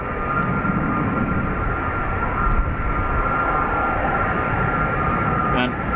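A steady, loud drone of an airliner's engines at Dublin Airport, with a constant tonal hum under a broad roar that holds unbroken throughout.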